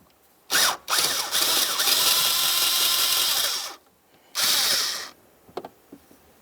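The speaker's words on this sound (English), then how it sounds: "we're going to use a T20 to start removing this mounting bolt" A power driver with a T20 bit backing out a mounting bolt on a 2009-2020 Dodge Journey during a rear strut job, one long loud whirring run, a pause, then a shorter burst, followed by faint clinks.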